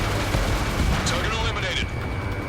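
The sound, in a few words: missile launch from a jet in the video game Ace Combat 7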